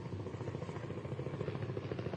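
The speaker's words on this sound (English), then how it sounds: "for a city without a helipad, we certainly have a lot of helicopter traffic today" A helicopter flies over Sydney during an outdoor ministerial news conference, heard as a faint, steady, distant rotor drone with a soft rhythmic chop that holds evenly throughout, with no talking.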